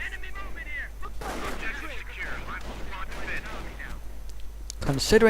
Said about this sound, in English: Kettenkrad coming under fire from riflemen